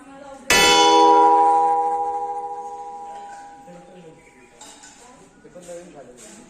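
A temple bell near a shrine is struck once, loud and close, its bright metallic clang ringing out with a long sustained decay under a few seconds, followed by faint background chatter and crowd noise.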